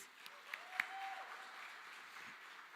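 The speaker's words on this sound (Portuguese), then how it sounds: "Mais uma salva de palmas a vocês." A church congregation gives a faint, steady round of applause, with a few sharper claps standing out near the start and the clapping continuing evenly throughout.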